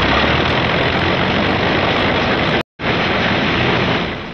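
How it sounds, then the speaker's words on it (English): Several P-51 Mustang fighter plane engines warm up on the flight line ahead of a long-range fighter mission, a loud, steady broadband roar that cuts out briefly near the middle and then resumes at full strength. "P-51s are warming up for the longest fighter flight on record"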